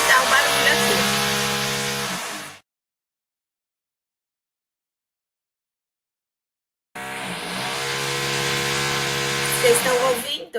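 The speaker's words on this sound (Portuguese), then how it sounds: "é o meu vizinho de cima com uma furadeira" An upstairs neighbor's electric drill whines loudly in two bursts with a pause of silence between, the harmonic motor pitch steady and close through the ceiling.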